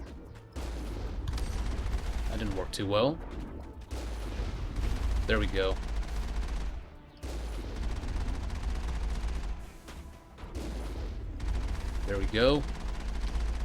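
Heavy vehicle cannon fire booms out in short repeated bursts during a firefight in Mass Effect 1 on PC, loud and close, with someone talking between the volleys.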